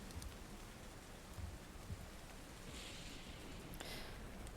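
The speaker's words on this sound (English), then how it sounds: "In fact, it's often rainy here." Steady rain falls in a video game town that is often rainy or foggy, a constant dense hiss with soft low patter and a few brief brighter swells, no talk over it.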